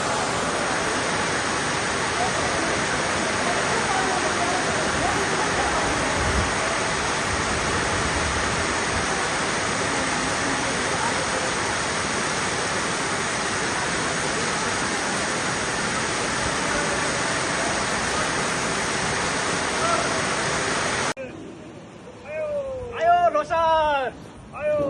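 Heavy rain pours steadily at an outdoor venue set up for a Tamu Lhosar celebration in Brunei. A dense, loud hiss holds for most of the stretch, then cuts off abruptly to brief quieter sounds.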